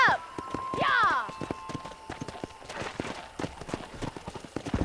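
Horse hooves clip-clop steadily in Red Dead Redemption while a rider herds cattle toward a cow pen, the hoofbeats repeating through the clip under a shouted voice and some brief whistles at the start.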